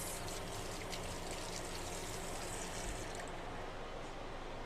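Water runs steadily from a hotel kitchen tap while cookware is rinsed after cooking salmon, a soft constant hiss and splash heard close and alone.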